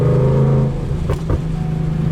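A loud, throaty Ford Mustang Coyote V8 with a Whipple supercharger and catalytic converters removed revs hard, rising and falling in a deep rumble with no talking.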